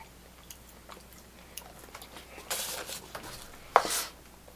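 Cold french fries being chewed close up, soft irregular crunches and mouth sounds with a couple of louder bursts near the end.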